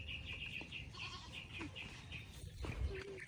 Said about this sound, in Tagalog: May kambing din pala dito si